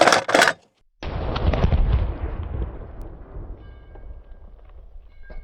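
A single loud gunshot cracks close by, fired between two White Claw cans, then a long rumbling echo rolls out and fades over several seconds outdoors, with a short burst of sound just before the shot.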